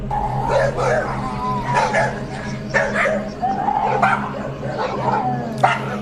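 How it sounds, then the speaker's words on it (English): Dogs at home at night barking and yipping repeatedly in short bursts over a steady low hum, with occasional whimpering, fairly close and loud. "He decided to check the footage when his dogs wouldn't stop barking."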